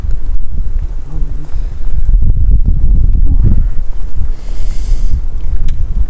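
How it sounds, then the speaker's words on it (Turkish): Strong cold wind in an open field buffets the microphone in a constant loud roar, with heavy low rumbling gusts throughout. "Çok soğuk bir rüzgar esiyor"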